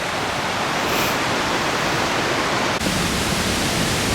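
Waterfall pouring over the Big Dam at Sweet Arrow Lake on a cold, lightly snowing day, a steady, loud, close broadband roar that continues unbroken throughout.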